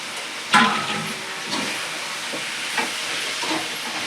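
Chicken pieces frying in a pan for a home-cooked chicken gravy, giving a steady hissing sizzle with a sharp clatter at the start and a few soft stirring knocks.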